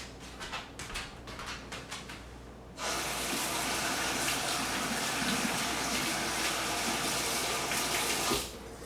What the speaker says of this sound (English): let me just wash my hand.